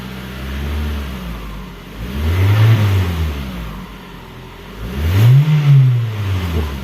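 A Toyota Camry engine revs twice in rising and falling swells, loud and close, settling back to a rough, noisy idle between bursts.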